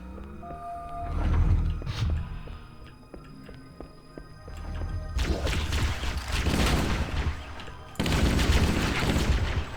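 Gunfire in Halo: Combat Evolved on heroic difficulty against jackals, with several bursts of shots and impacts spread across the scene, moderately loud over busy game ambience and music.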